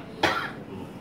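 A single sharp cough bursts out once during an indoor cooperative registration briefing, close and loud, then fades into quiet room tone.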